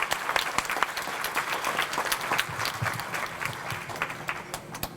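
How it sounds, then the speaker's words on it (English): Dense, steady applause from an audience at an elementary school send-off, many hands clapping at once, loud and sustained throughout without a break. "Can we please applaud your teachers?"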